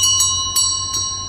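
A loud bell strikes three times at steady intervals inside a cave, each clang leaving a sustained ringing tone that hangs and echoes between strikes.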